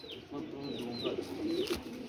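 Pigeons at a home breeder's loft, including a Kasuri male, coo in soft repeated calls, with some brief higher chirps over a steady background murmur.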